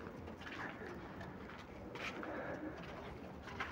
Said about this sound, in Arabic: قلنا نطلع نفك الحمام بتاعنا والحمام يطير